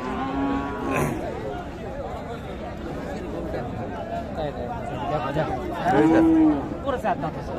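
Cattle at a busy village livestock market (Raniganj haat) moo loudly twice, near and drawn out, amid a constant crowd murmur and people talking close by.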